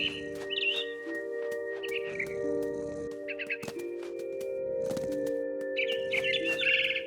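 A mama bird chirping in the What Remains of Edith Finch video game: short bright tweets in scattered bursts over a steady low musical drone, moderately near and fairly soft.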